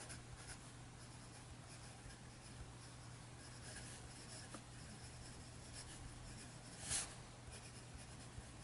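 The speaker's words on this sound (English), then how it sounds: "And let's see how this nib will write." A Kaweco Dia 2 fountain pen with a medium 14-carat gold nib writes on paper, making a faint, steady scratching close by, with one brief sharper scrape near the end.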